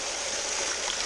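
Water runs steadily from a tap beside a rock tumbler, a dense, continuous hiss and rush that stays loud and close throughout with no pauses.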